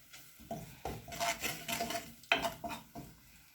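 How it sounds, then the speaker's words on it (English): Irregular scraping and clattering of a spoon stirring frying onions in a pot for pumpkin risotto, with metallic knocks against the sides, close and moderately loud. "I come back and now start stirring."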